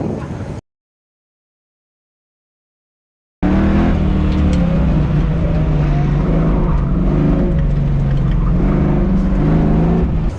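A car attacking an autocross course at LS Fest roars loudly with engine revs rising and falling through the corners, following a short burst of noise and a few seconds of silence; nobody talks.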